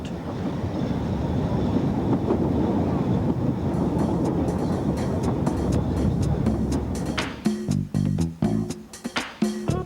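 A Welsh Highland Railway steam train runs along the line near a river, a steady rolling rumble with wind buffeting the microphone that breaks into rhythmic clanks of wheels over rail joints near the end.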